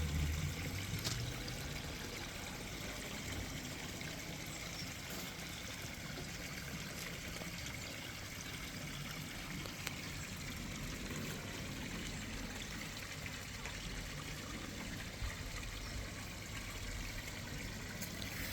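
Steady, soft rush of a waterfall and stream flowing continuously in a natural outdoor setting, even and unbroken throughout with no voices.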